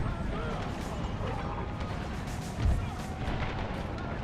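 Battle of Gettysburg combat in a video game: a steady roar of massed musket fire with distant cannon booms, one heavier thump standing out partway through, with voices faintly in the din.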